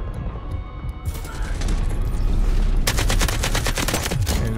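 Rapid automatic gunfire in Delta Force, a dense burst of close rifle shots firing in quick rhythmic succession over continuous battlefield din, with earlier scattered single shots.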